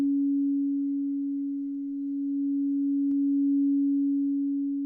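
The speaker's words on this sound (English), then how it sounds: "Feel the sound of the bowls." A singing bowl rings in a single steady, pure sustained tone that hums evenly through the whole clip, with a faint tap partway through and no voices.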